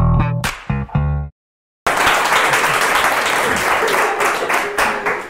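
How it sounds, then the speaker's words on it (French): A live audience at a comedy hypnosis show breaks into loud, close applause after a short burst of talk and a brief silence, the clapping dense and sustained before tapering slightly. "applaudissez-le quand même"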